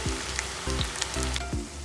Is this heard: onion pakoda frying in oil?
yes